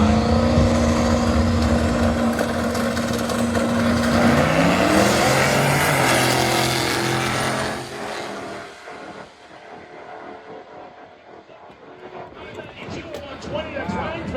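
Drag racing at Tulsa Raceway, an '84 Mercury wagon and an Oldsmobile launching, loud roaring engines with a sustained whine that fades as the cars pull away, leaving distant rumble, with an announcer talking over it.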